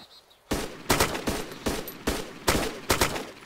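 Rapid gunfire crackles through a combat video game in a haunted mission, a run of about seven sharp, loud shots in an uneven rhythm after a brief quiet start, with no talking.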